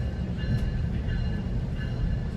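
GO commuter train running between Union and Weston, a loud, steady low rumble of rolling wheels and carriage noise with faint higher rattles, continuous and close.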